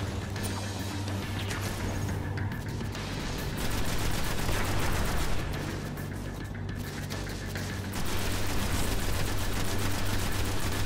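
Rapid gunfire in Destiny, on Venus, fired at goblin enemies during a strike boss fight: dense, continuous automatic shooting in loud bursts with brief lulls, with no voices over it.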